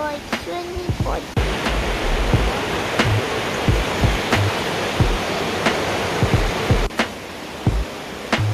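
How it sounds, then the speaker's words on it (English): Water pouring out along a fault line beside the Buller River near Murchison, a constant rushing roar like a small waterfall, close and loud, with a few sharp knocks over it. "Standing at this point, you can see the fault line where that water's coming out."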